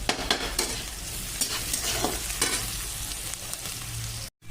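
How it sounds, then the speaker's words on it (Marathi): Chopped onion with a little salt fries over a low flame in a pan for kanda pohe, giving a steady soft sizzle broken by scraping stirs, then briefly cutting out. "कमी गॅसवर करायचा म्हणजे कांदा करपत नाही कांदा भाजत असताना हे थोडंसं मीठ टाकायचं म्हणजे कांदा पटकन भाजला जातो"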